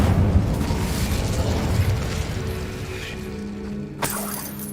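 In the video game Hogwarts Legacy, an Incendio fire spell erupts as a loud, dense whooshing burst that fades into a softer crackling rumble, with a sharp crack near the end.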